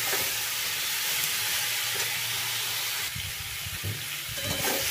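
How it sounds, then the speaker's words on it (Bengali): Spices sauté with cumin powder in a pan, giving a steady close sizzle and hiss with a few stirring knocks partway through. "এবার সব শুদ্ধ ভালোভাবে কষিয়ে নেব"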